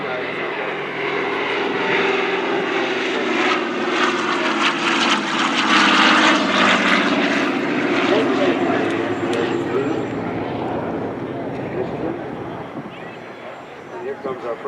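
A B-25 propeller bomber roars past overhead at a 2015 WW2 airshow parade, its droning engines swelling to a loud peak midway, then fading as it moves away.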